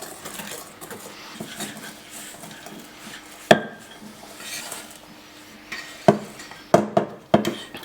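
Sugar and cornstarch being slowly stirred together for a Parisian flan, a soft scraping and swishing in a bowl punctuated by several sharp clinks of utensil against the dish near the end.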